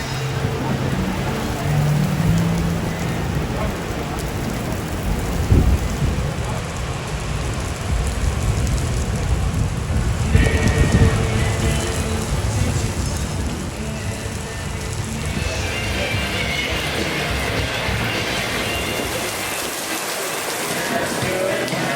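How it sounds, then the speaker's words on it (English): Heavy rain pours down at a Beloit minor league baseball stadium during a storm, a dense, constant hiss that lasts the whole stretch, with occasional thumps and faint crowd voices beneath. "the sound of rain is more interesting than the sound of wind"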